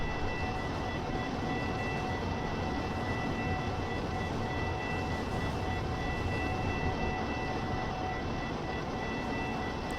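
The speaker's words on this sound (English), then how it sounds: "Wow, that's a very long train." In the video game American Truck Simulator, a long freight train rumbles steadily past for the whole stretch, a dense continuous roar with a faint high whine, no pauses or voices.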